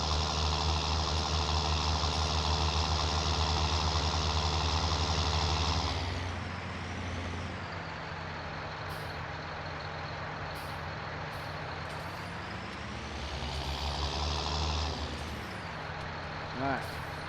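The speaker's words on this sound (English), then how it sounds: "Lovely sound on this thing. Beautiful sounding tractor." A tractor engine in Farming Simulator 19 drones steadily, then drops in pitch and revs back up, a continuous mechanical hum with no talking.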